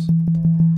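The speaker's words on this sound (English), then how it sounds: "This is a basic sound wave." A steady, pure sine tone from a wavetable synthesizer in Ableton holds at a low pitch, restarted by four soft, evenly spaced note attacks, with no other sound.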